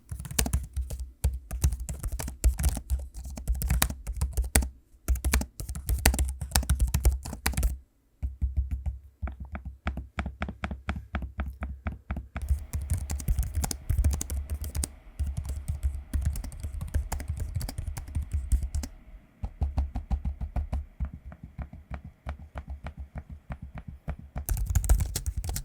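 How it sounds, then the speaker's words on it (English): HP Omen Transcend and Asus ROG Zephyrus laptop keyboards are typed on in close, quiet bursts of rapid key clicks with short pauses, plus a few softer trackpad taps. "here's a quick audio sample of me using both keyboards and trackpads so you can hear what they sound like."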